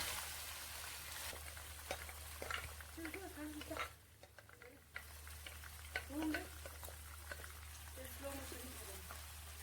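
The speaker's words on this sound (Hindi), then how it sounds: "बाकी जो प्याज है उसमें हम ऐड करेंगे अपना मैरिनेट किया हुआ गोश्त।" Marinated beef frying with onions for biryani makes a quiet, continuous sizzle with scraping stirs, briefly dipping before picking back up.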